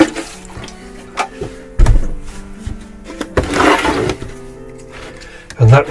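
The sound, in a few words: water filling a tray to soak plants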